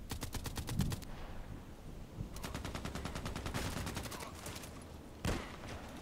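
Rapid bursts of automatic gunfire from the player's weapon in a shooting video game, three separate volleys with short pauses between, loud and close, with no voice over them.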